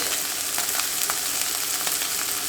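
Sausage sizzles and crackles steadily in a pan as a little oil goes in, a close, continuous frying hiss with small pops throughout.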